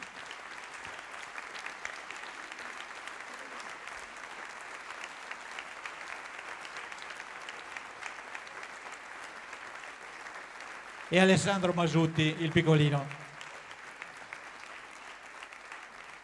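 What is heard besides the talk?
theatre audience applauding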